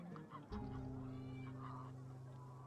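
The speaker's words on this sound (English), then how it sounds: "Oh, I can yeah, hear the honking of geese." Geese honk in the ambient soundscape of the strategy game Songs of Conquest, a cluster of nasal, tonal honks swelling into one sustained call, fairly faint and heard alone.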